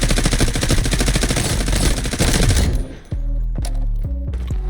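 An M4A1 rifle with recoil attachments fires in a video game: a loud, rapid automatic burst that cuts off, then a few separate single shots ring out.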